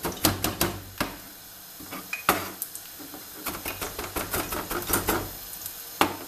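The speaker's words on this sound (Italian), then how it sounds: "lo scalogno possiamo provvedere con il tagliarlo a fettine e a pezzettini, così piccoli" A knife finely chopping shallot on a board in a home kitchen while making penne alla vodka, with quick irregular bursts of close, sharp taps broken by short pauses.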